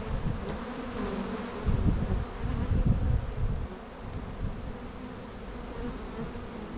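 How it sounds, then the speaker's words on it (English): Dense, steady buzzing of many bees swarming close by around a hive, swelling louder for a couple of seconds midway before easing back to a constant drone. "They're covered in bees right now."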